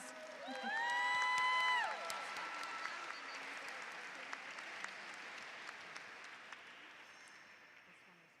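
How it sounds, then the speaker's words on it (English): An audience applauds at an American Indian Heritage Month celebration, the clapping strongest at first and then slowly thinning out over about eight seconds, with a few brief tonal sounds near the start. "that doesn't mean we can't give him a round of applause"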